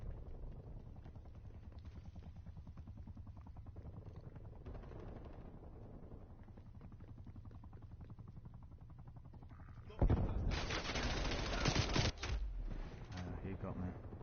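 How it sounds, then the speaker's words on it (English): Call of Duty Cold War multiplayer with a rumbling mechanical drone and scattered gunfire, then a loud burst of artillery barrage blasts about two-thirds through, heard under occasional game voice callouts. "Incoming artillery. Artillery barrage."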